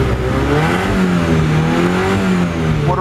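A car motor runs steadily and loud, close by, with a rising and falling drone as the revs shift slightly, and no talking over it.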